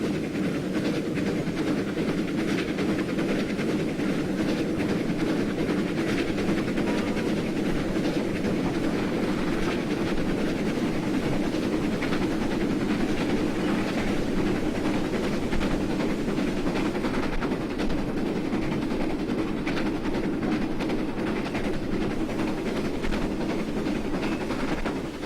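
A GWR Castle steam locomotive runs in Train Simulator 2015 on the Riviera Line, a steady rumbling engine and rail drone that stays loud and continuous throughout without talk.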